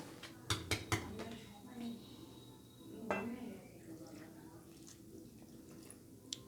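Pitha batter being mixed with milk in a bowl for patishapta: a spoon clinks sharply against the bowl several times in quick succession, then gives softer wet stirring and occasional clinks, with a voice speaking nearby.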